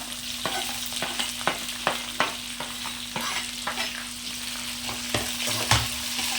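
Sliced onions fry in a pan with a steady sizzle, broken by repeated scraping strokes of a spoon stirring them, close and alone with no voices.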